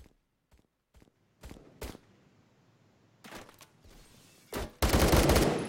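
Gunfire from the Roblox game Phantom Forces comes in sharp isolated shots and short bursts amid quiet gaps, ending in a louder sustained automatic burst.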